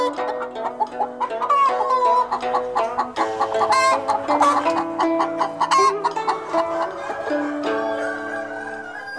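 Several chickens cluck and squawk steadily and close by, overlapping calls filling the whole stretch with no voices.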